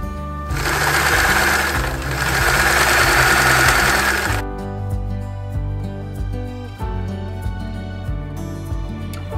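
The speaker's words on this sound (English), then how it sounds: "go ahead and sew it to the very edge of the sleeve here, just aligning that underneath the sleeve and then top stitching all the way around" A sewing machine topstitches crocheted lace along the edge of a dress sleeve, running loud and continuous for several seconds, then carrying on at a slower, lighter rhythm.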